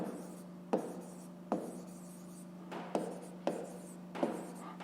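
Handwriting of a fraction during a 5th-grade math exercise: several scratchy pen strokes on paper with sharp taps at each new stroke, close and steady, no voices.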